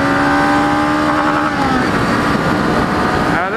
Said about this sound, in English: We're gonna give her a good rip in second. Full throttle. We're gonna redline it.